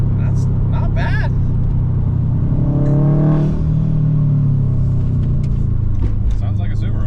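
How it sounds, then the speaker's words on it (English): A Subaru WRX STI engine rumbles steadily while driving, a loud low drone with a brief rising rev in the middle, with people talking over it. "It sounds like a Subaru."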